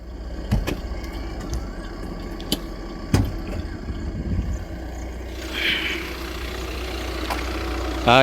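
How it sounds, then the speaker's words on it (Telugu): A 2019 Maruti Suzuki Ertiga ZDI+ 1.5 diesel idles with a steady low rumble, broken by a few sharp clicks. A brighter hiss joins near the end. "ఇంజన్ సౌండ్ కూడా మీకు చూపిస్తాను"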